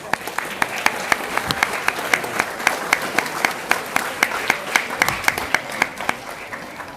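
An audience applauds after a lecture on the Curiosity SAM instrument, a steady bed of clapping punctuated by sharp, evenly spaced claps that stand out above it.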